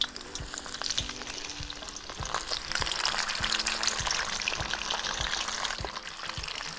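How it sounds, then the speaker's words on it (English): Coconut-coated king prawns fry in hot oil in a wok, giving a dense, continuous crackling sizzle with occasional stirring clanks, close and loud, with no talking. "Hear the sizzle?"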